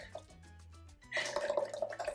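Evaporated milk pours from a punctured can into a dish, a close wet glugging stream starting after a second of quiet room tone and continuing to the end.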